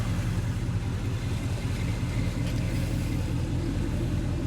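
A Chevrolet El Camino engine with modified side exhaust idles in a steady, low, rumbling drone, close and unbroken throughout.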